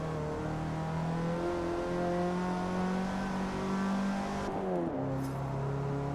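Race car engine in Forza Motorsport holding high, steady revs with clear harmonic whine, briefly dipping as it shifts gears then climbing again, heard alone without talk.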